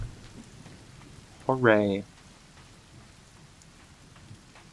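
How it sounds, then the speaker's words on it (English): Steady, soft rain falls in The Forest video game as a faint even hiss throughout. A voice briefly cheers partway through. "The rain is coming down."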